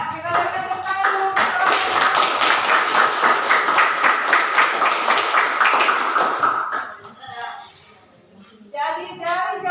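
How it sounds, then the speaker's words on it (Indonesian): A classroom of students claps together in a dense, steady burst of applause for several seconds, then it fades out while voices talk and chatter afterward. "kita berikan tepuk tangan dulu."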